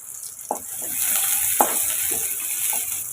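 Onions hit hot oil in a kadai and give off a bright, steady hiss of frying, broken by a few light stirring clinks and scrapes close by.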